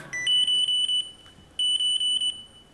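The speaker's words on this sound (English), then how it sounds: "A harsh alarm which tells you you need to brake now." A harsh in-car driver-assistance warning alarm urging the driver to brake, sounding as two quick bursts of rapid, shrill electronic beeps separated by a short pause, clear and alone with no voices.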